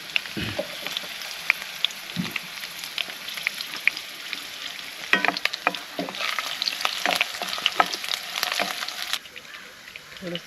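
Green chillies hit hot oil in a frying pan, giving a steady crackling sizzle with sharp spits and pops throughout, close and fairly loud, and the hiss eases slightly near the end.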